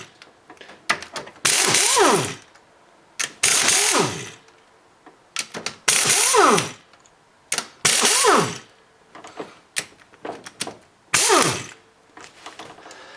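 Rapid ratchet clicking in repeated bursts as rocker arm bolts come off a 1999 Pontiac Grand Prix GTP during head gasket work, loud and close with short pauses between runs.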